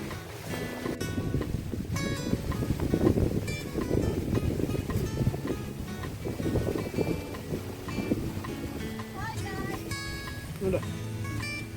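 Steady wind gusts buffet the microphone on a hilltop, a continuous rumbling roar with tonal sounds and a voice heard intermittently over it.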